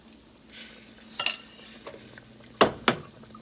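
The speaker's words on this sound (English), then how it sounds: "I'm gonna add a little more roux to this" A whisk or spoon scrapes and clinks against a pot while roux is stirred into pot roast gravy, several short bright metallic scrapes and taps over a quiet background.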